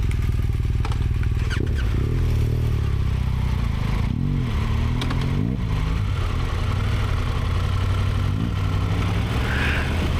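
An off-road motorcycle pulls away, its mid-pitched engine droning steadily up close and rising through a few revs and gear changes, with a constant rumble running throughout.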